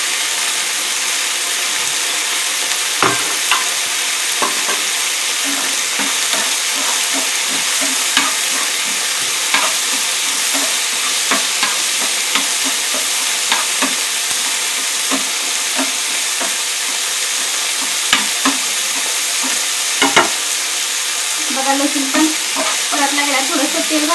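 Drumstick leaves frying in hot oil while being stirred, a steady loud sizzle throughout with scattered scrapes and taps of the spatula against the pan.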